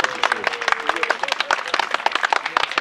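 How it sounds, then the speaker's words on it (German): Brisk applause from a crowd at a maypole raising, a steady patter of many hands clapping close by. "Also dafür alle mal einen Applaus."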